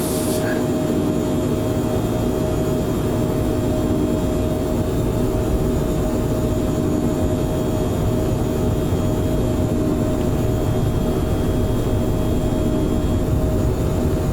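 A Phenom 100 business jet takes off in the video game Microsoft Flight Simulator 2024. A loud, constant engine roar with a steady whine continues throughout, without pause.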